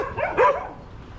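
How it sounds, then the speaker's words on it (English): A dog barks once or twice up close outdoors on Camiguin Island in the Philippines, a short sharp yelp-like bark standing out over light background noise. "Oh, nasty looking dogs."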